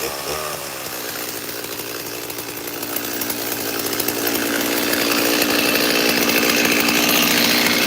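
A chainsaw engine runs loud and close throughout, holding a rough, steady drone that grows slightly stronger toward the end, with no clear drop in speed.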